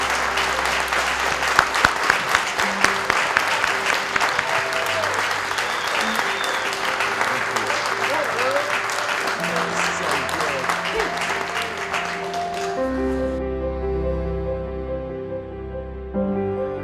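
Loud audience applause with dense clapping and some cheering fills most of the clip, then fades as music with sustained tones takes over near the end.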